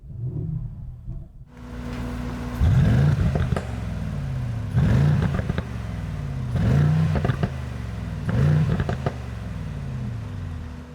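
A Mercedes-AMG GLE 63 S V8 engine starts with a sharp burst, then settles into a rumbling idle broken by four loud, close revs.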